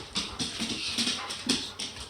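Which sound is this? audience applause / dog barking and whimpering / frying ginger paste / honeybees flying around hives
dog barking and whimpering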